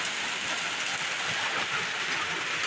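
Heavy rain pours steadily outside during home cooking of chicken, a dense, even hiss that fills the whole stretch without pause and with no voices.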